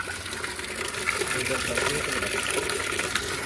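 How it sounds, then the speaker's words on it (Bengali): Steady gush of water pouring out of the outlet of a two-tank home iron filter system, a continuous broadband rush filling the whole clip at moderate loudness, with no pauses. "এটা কিন্তু বাইরে আউটসাইডে টোটাল জলটা বেরোচ্ছে"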